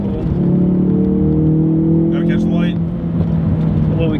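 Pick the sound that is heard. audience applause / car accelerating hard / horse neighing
car accelerating hard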